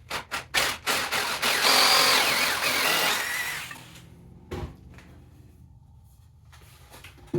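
A drill with a Forstner bit bores into scrap red oak in a loud, grinding burst for a few seconds, then stops, followed by scattered knocks and handling thumps.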